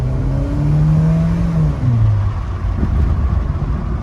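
Engine of a 2002 Mitsubishi Lancer revving up and shifting through gears while driving, a loud continuous drone whose pitch climbs, drops at a shift and climbs again, with steady road rumble throughout.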